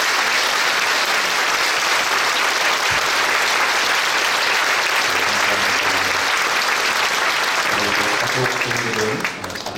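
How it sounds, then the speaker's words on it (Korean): A church congregation applauds at a pastor installation ceremony at Seoul Sujeong Church, a loud, continuous wall of clapping, with a low musical tone and a voice surfacing toward the end as it starts to fade. "여러분 큰 박수로 응해 주시기 바랍니다"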